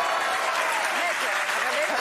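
Applause fills a French TV talk-show studio, a dense, steady wash of clapping from the audience that holds at a constant level throughout, with a voice faintly audible underneath.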